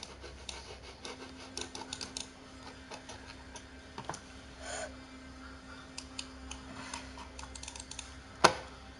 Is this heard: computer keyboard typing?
yes